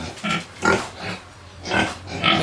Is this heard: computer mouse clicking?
no